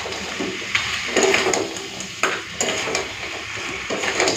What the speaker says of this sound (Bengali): গরম মশলাটা দিয়ে ভালো করে মিশিয়ে নিয়েছি।